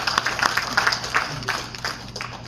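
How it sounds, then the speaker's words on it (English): An audience at an Outstanding Teacher Award ceremony breaks into clear, close applause. Distinct claps ring out briskly at first and thin out gradually over a couple of seconds. "Round of applause for Mr. Fernando A. Bobadilla"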